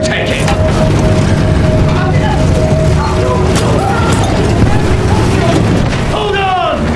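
Field gun shelling in Battlefield 1 sends out repeated booms and sharp cracks amid mechanical clatter, with voices shouting over the din.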